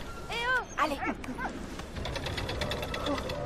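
A dog barks and whimpers in the World War I video game Valiant Hearts: The Great War, sharp yelps and rising whines up front giving way to a steady busy game soundscape.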